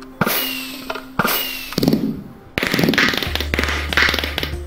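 Cannons fire in Minecraft aboard a pirate galleon build: a few sharp blasts ring out, then a denser run of booming explosions over a low steady hum, loud and close with no talk.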